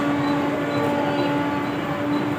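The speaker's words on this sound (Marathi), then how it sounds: "Local train." A local train at Dahanu station passing close by, a loud continuous rumble with a sustained steady tone running through the whole stretch, no voices.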